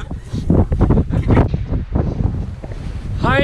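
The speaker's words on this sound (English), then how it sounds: "this wind is crazy" Strong wind buffets the microphone on a mountain summit hike at Katahdin, a loud continuous roar with gusty surges throughout, with a brief voice fragment near the end.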